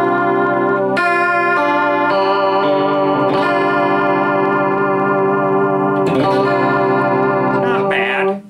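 Electric guitar runs through a chorus pedal with rate and depth set halfway, sustained shimmering chords with a wavering, doubled tone and a few chord changes, loud and unaccompanied.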